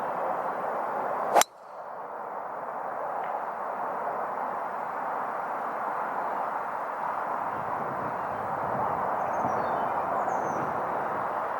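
Golf 3 wood strikes a ball cleanly off a tight, closely mown lie: one sharp metallic click near the start, then steady open-air background for the rest.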